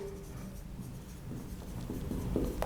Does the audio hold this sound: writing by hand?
yes